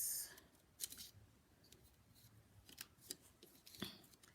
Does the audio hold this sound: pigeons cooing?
no